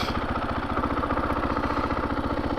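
A KTM motorcycle sits idling at the roadside after pulling over, its engine giving a steady, even run of low thumping pulses at close range, with no voices over it.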